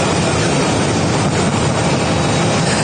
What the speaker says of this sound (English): never heard a plane sitting at the gate sound like that